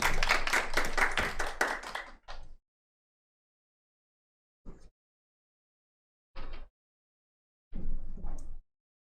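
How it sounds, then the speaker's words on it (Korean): A brief burst of room applause welcomes a presenter at a Microsoft Teams session. It is brisk and loud for about two seconds, then trails off into a few scattered, isolated claps separated by silence. "큰 박수 부탁드립니다"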